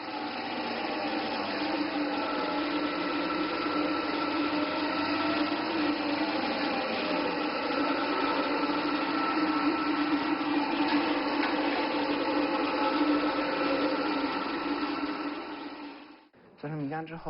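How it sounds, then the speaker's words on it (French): A food processing machine grinds soaked rice into coarse rice milk, a steady loud whirring drone that runs continuously for most of the clip before cutting off abruptly near the end, with a brief restart. "la machine commence à broyer"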